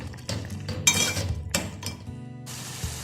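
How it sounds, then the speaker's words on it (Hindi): Metal utensil clinking and scraping against a bowl while stirring chili sauce into a mixture, with steady clatter and a faint sizzle in the background. "इसको अच्छी तरह से मैं मिक्स कर लेती हूँ।"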